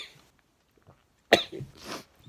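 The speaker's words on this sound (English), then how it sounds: "I'm sorry, excuse me, I'm sneezing." A single sharp sneeze bursts out close to the microphone during a knitting podcast, followed by a short breathy tail, in an otherwise quiet indoor setting.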